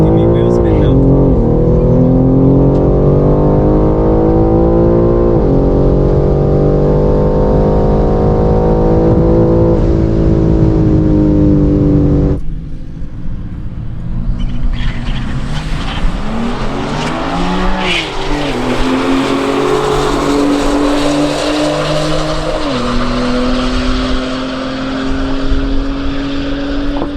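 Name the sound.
BMW G80 M3 Competition launching with wheel spin at drag strip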